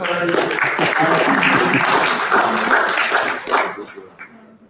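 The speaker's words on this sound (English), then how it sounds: "Can we clap for her" Applause from an audience at a stakeholder meeting on cost of living and poverty in Zambia: a dense, steady wash of clapping that lasts several seconds, mixed with voices, then thins and fades near the end.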